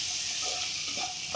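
Chilli powder and masala being stirred in a hot pan for chana masala gravy, giving a steady bright sizzle with soft scraping strokes of the spoon underneath.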